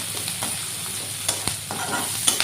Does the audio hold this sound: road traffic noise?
no